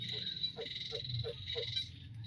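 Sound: frog croaking at night

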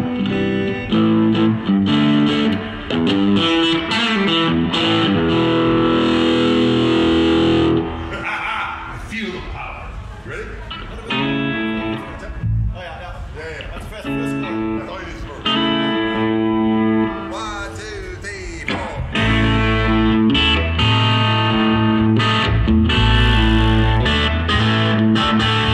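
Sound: distorted electric guitar through Koch 'The Greg' amp

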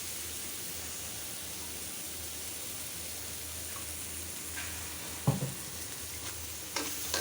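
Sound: masala frying and being stirred in oil

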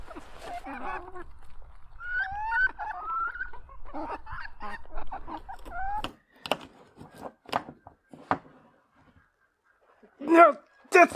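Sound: chickens clucking

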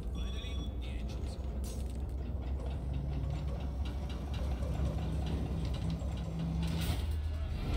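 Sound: boat engines starting up, from video game Hitman 2

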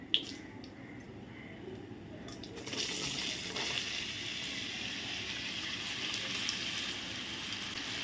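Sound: raw mango pieces added to hot oil tempering, sizzling

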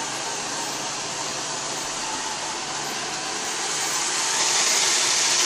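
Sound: Roomba robot vacuum driving to its dock

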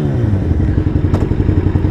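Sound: motorcycle engine

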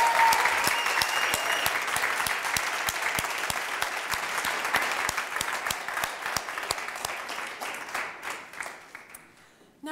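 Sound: big round of applause for graduands

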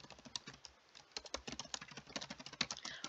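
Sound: typing on a computer keyboard

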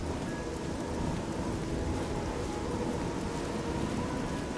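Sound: rain in the video game Oblivion

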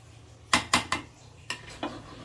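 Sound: mixing cooked beef tehari rice in a pot

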